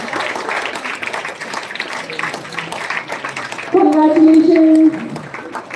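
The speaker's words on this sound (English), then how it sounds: "Huge round of applause, guys." An audience at a yoga entrepreneurs' meet applauds for several seconds while a voice speaks over the clapping, and a short sustained tone joins in near the end.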